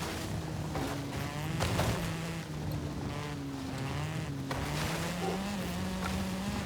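A racing car engine in the Forza Horizon 5 video game drones steadily, its pitch sliding up and down as the car accelerates and shifts, with rushing wind and road noise over it and no talk.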